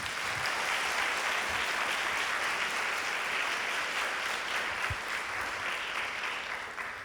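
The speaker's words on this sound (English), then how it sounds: "please give them a round of applause" An audience at a teacher of the year ceremony applauds school board members with steady, even clapping that fills the room, slightly distant, easing off at the very end.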